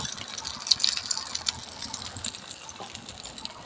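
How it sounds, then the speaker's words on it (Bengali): Potato and egg batter is poured into hot mustard oil in a frying pan, bringing a bright, close hiss and sizzle with a few small crackles and splatters. The hiss then settles into a steady fry. "যে ব্যাটারটা খুলে রেখেছিলাম ব্যাটারটা দিয়ে দিচ্ছি।"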